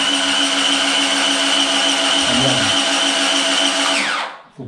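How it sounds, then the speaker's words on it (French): An electric paddle mixer whirs steadily in a Wagner airless paint sprayer's container holding leftover cleaning water, a loud continuous motor whine with a brief dip in pitch before it switches off and spins down. "on va remettre un petit coup de mélangeur"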